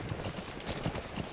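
Horse hoofbeats clop softly as a rider trots along in Metal Gear Solid 5, a faint, steady rhythm of hoof strikes.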